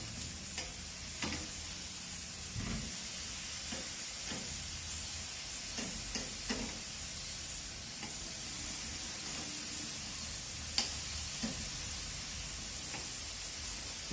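Bacon grease sizzling and spitting on hot grill grates over coals, a steady dense crackle throughout with occasional sharper pops, close and continuous with no talking.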